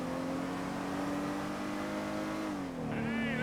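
Car engine in GTA V NoPixel roleplay, a steady droning hum that shifts pitch midway as the car accelerates during an overtake, then a rising whine near the end, close and continuous.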